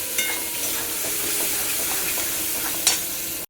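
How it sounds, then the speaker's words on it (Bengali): Ghugni curry being stirred in a frying pan, a steady sizzling fry with a spoon scraping and clinking against the pan in short irregular strokes and one sharper knock near the end; no talking. "এটাকে ভালো মতো একটু নাড়িয়ে নেবে"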